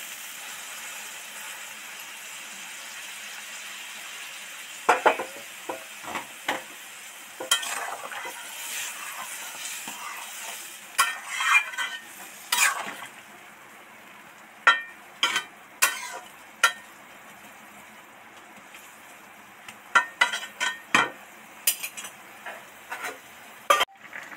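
Soybean and potato curry simmering in a pan, with a steady low sizzle and bubbling broken by clustered taps and scrapes of a stirring spoon, near and fairly loud, with no talk.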